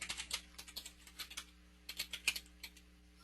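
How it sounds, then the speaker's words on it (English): Someone types on a computer keyboard while entering a search into a pay-per-click keyword tool, giving fast, close clicking bursts with a short pause around the middle before the keystrokes resume. "I'm typing Nathan back in here"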